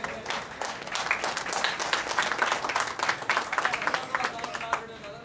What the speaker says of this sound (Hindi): आपकी भरपूर तालियों में रज़ा अशरफ कैमरी साहब।